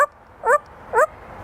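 A parrot imitates a dog, giving two short, close barks about half a second apart with harmonic yelps, a mimicked woof in a bird's voice.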